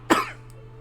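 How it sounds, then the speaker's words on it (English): A person coughs as a secret signal at the door of a small house on the outskirts of a city's industrial area: one sharp, close cough, then a much fainter second one. "The 2 coughs were also part of the code, of course."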